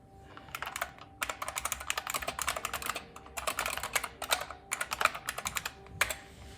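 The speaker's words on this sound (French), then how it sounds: "voici une petite séquence pour vous donner une idée du son qui se dégage du clavier quand on l'utilise" Steady typing on a low-noise computer keyboard, with quick runs of soft, muted keystrokes in bursts and brief pauses, heard close and alone.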